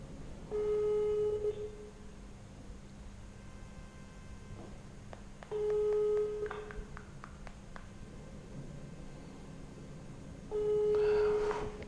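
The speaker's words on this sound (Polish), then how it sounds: "Zobaczcie, ile czasu ten telefon dzwoni." An unanswered telephone rings on and on: three steady electronic ring bursts, each about a second long, repeating roughly every five seconds over a low background hum.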